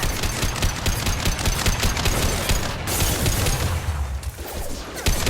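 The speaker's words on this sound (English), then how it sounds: "Firing an impact shot!" Rapid, loud bursts of impact-shot gunfire in a video game, with sustained crackling volleys and booming hits running throughout and no pause.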